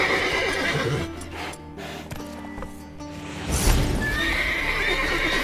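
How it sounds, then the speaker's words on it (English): Horses in The Witcher 3 video game whinny loudly and repeatedly over a steady game soundscape, with clip-clopping hooves and a heavier thump of movement near the end. "Gotta calm all the horses before they wake the guards."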